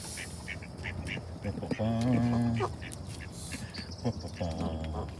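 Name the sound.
ducks quacking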